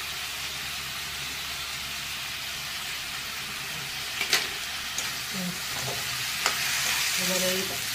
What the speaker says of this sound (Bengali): এবারে এই আদা জিরে আর এই বাটাটা দিয়ে ভালো করে কষাই